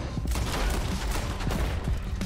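Rapid semi-automatic pistol fire in the Red Dead Online video game, a dense run of loud shots blurring together over a noisy, continuous game soundscape.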